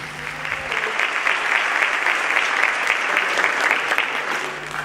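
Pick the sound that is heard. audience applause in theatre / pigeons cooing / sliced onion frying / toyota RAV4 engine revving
audience applause in theatre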